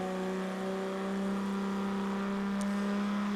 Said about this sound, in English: they're revving it a little bit harder to get to half track